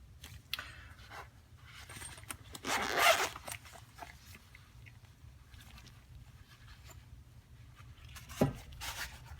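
A Custom Knife Factory knife pouch being unzipped, one short zipper rasp that is close and fairly quiet, followed by faint handling taps and rustles.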